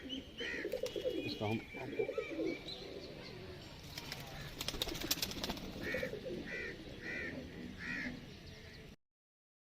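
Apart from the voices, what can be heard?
pigeons cooing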